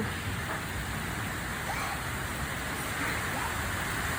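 Steady, dense rain hiss fills the whole stretch, a constant wash of heavy rainfall with no pauses and no voices.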